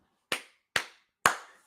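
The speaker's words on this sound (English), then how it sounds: "I'm clapping now." Three sharp hand claps, evenly spaced about half a second apart, close and alone during a live Chelsea versus Manchester United football watchalong.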